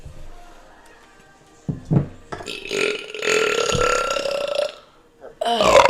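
A long, drawn-out burp during a burping contest, rumbling and loud up close for several seconds, with voices and laughter breaking in around it.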